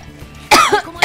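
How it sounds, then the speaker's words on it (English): Two short, sharp coughs close to the microphone, the first a little longer with a raspy tail, separated by a brief pause. "I had to cough"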